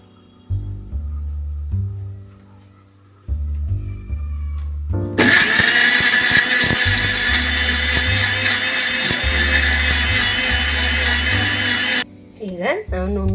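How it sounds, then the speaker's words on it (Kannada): A mixer grinder grinds coconut with cumin for a fenugreek sambar, a loud steady whir running for about seven seconds before cutting off, with a person talking before and after. "ಈಗ ಕೊಬ್ಬರಿ ಹಾಕ್ಕೊಳ್ಳೋಣ. ನಾವೀಗ ಗ್ರೈಂಡ್ ಮಾಡ್ಕೊಳ್ಳೋಣ."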